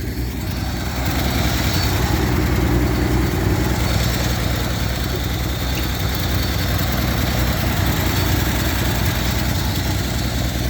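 A small engine runs steadily close by, a loud continuous idle with an even low throb and a rattly mechanical buzz, holding without a break.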